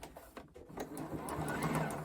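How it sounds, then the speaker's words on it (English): A sewing machine stitches binding onto a quilt, a quick, even mechanical whir with rapid needle ticks that starts after a short pause and runs steadily up close. "I'm going to sew the binding till I get to about a 1/4 of an inch from the edge of the quilt."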